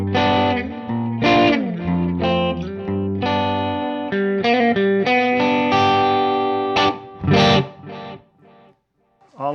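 An electric guitar played through a Metro-Plex MK II 100W amp gives edge-of-breakup tones with delay. A run of sustained, slightly gritty notes and chords rings out, fairly loud, then fades out near the end.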